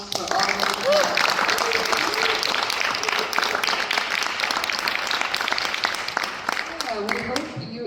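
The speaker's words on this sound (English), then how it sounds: "Can we get one more round of applause for all of you?" Audience applause after a film screening at the Seattle Black Film Festival: a dense, steady roar of many hands clapping, loud and close throughout, with voices and cheers mixed into the crowd.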